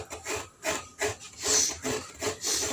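Rhythmic scraping strokes, about eight in a row, a rough rasping grate as a coconut is grated, repeated steadily at close range with no talking.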